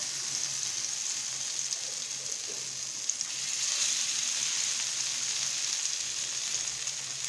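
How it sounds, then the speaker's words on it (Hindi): Chicken shami patties frying in hot ghee give a steady, even sizzle that holds close and constant throughout, with no voices over it. "घी हमारा अच्छी तरह से गर्म हो चुका है। ये देखें, अब हम डालते हैं इनको।"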